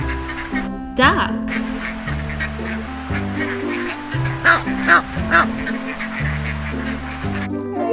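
Cartoon duck quacking several times over a steady musical background, the calls fairly loud and near in a children's farm-animal animation.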